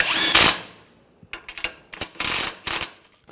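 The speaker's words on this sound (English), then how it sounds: "Use a 17mm socket. And we'll tighten this down." A 17mm socket tightens a nut on the steering rack of a 2011-2017 Nissan Juke, giving loud bursts of power-tool whirring and short rattling clicks in an uneven rhythm, close up and with no talk.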